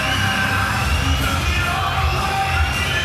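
A wrestling crowd in Manchester at the WCPW Lights Out 2017 event yells and cheers in a dense, steady roar. It carries on throughout without a break.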